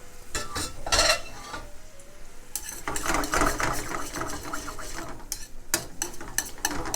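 Food cooking in a pan for an authentic Sicilian spaghetti with tomatoes, capers, mint and garlic, with a soft fry and bursts of spoon scraping and pan clatter from stirring.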